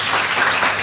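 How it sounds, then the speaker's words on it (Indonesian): A brief burst of applause from a church congregation at a worship service in a hotel, dense and even clapping throughout. "Kita tepuk tangan buat Tuhan Yesus"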